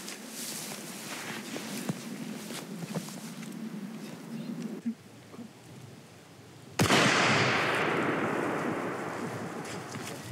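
A single sharp hunting rifle shot at a deer cracks out after a stretch of quiet outdoor ambience with faint birds, followed by a long decaying echo.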